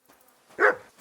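A single short dog bark in the video game Kingdom Come Deliverance 2, one sharp woof standing alone in near silence, with a faint trailing sound after it.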